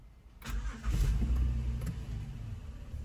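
A Ram 1500 EcoDiesel engine cranks and catches, then settles into a steady low diesel idle, heard close and fairly loud with no talking.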